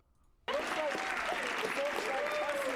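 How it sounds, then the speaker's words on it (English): Audience applause bursts in abruptly after a quiet moment and continues as a dense, steady clapping crowd with voices mixed in. "What are they clapping for?"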